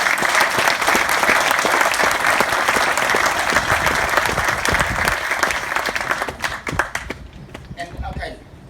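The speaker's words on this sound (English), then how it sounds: "Let's give her a clap." Applause from an audience at a community gathering fills the space, dense and loud, holding steady before thinning out near the end.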